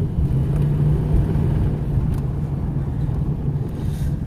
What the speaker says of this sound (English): Okay, so we're on the test drive.